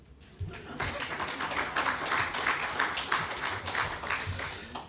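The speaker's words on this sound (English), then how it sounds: "So please clap for us." An audience at a conference presentation claps, a dense patter of hands rising quickly and holding steady for several seconds at moderate distance, with faint voices underneath.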